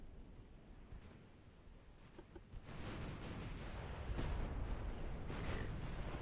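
Naval gunfire in the Ultimate Admiral: Dreadnoughts video game during an Austria versus Italy battle, heard as faint distant booms and rumbling bursts building over a low steady background.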